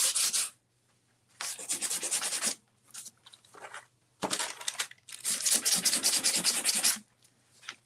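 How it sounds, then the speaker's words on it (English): A small Gator detail sander with 80-grit paper roughs up edges in short bursts, a close, gritty abrasive rasp that starts and stops several times with brief quiet gaps between passes. "And this cute little gator sander. I love this thing."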